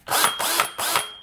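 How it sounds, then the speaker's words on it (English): Electric drill boring a hole in a part while retrofitting an Atari 5200 Trakball controller, three short close bursts of whirring motor with grinding, each separated by a brief pause. "Our drill to make the hole in it."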